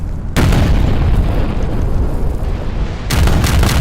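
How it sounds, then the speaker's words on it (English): Ship cannon fire in the naval battle game Napoleon Total War, a loud deep booming broadside rumbling continuously, with a fresh burst of shots near the end. "lot of firing going on."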